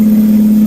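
Brief, steady hum of a Kenworth T100 truck engine in American Truck Simulator, a close, constant mid-pitched drone with no change in pitch.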